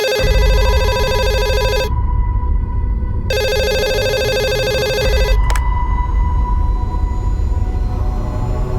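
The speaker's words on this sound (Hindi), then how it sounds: "दिन रात फोन बजते रहता है उसका" A telephone rings loudly in two long bursts of bright electronic trilling separated by a short pause, then cuts off with a click, leaving a steady low background hum.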